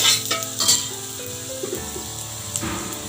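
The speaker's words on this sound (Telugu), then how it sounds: "ఈలోపు ఒక దోశ వేసుకుందామండి" Ragi dosa batter sizzling on a hot pan, a steady broadband frying hiss with a few brief scraping clinks, close and moderately loud, no talk.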